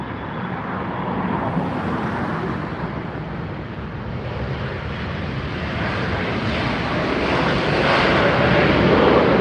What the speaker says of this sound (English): I'm going to turn you around for our next landing